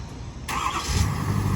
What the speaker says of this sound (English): Let's give her a first fire up the next day with our new DCR pump.